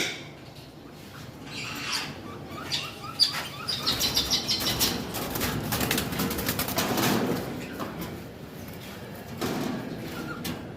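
Caged English budgerigars chirp and twitter on a bird farm, with scattered thin tweets and rustling that build into a busier, moderately loud chatter midway before easing off.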